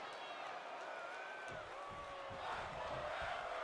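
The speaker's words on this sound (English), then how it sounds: "Got a fight forever chant going right now from the crowd here in Green Bay" A wrestling crowd in an arena in Green Bay chants "fight forever" at a fight night event, a loud, rhythmic mass of voices that swells toward the end, with a commentator talking over it.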